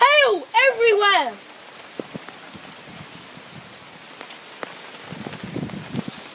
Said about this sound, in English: Okay, we are venturing in the rain. It is very wet.